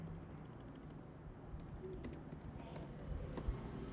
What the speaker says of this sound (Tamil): ஸோ இதில் டைப் பண்ணிக்கிறேன் void main